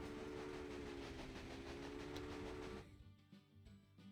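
A train running in the Railway Empire video game rolls along with a steady rumble and a rhythmic clatter of wheels, then drops off abruptly to a quieter background.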